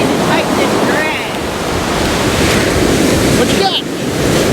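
Constant roar of ocean surf breaking on an Outer Banks beach during surf fishing, steady and loud with wind buffeting the microphone, no clear talk.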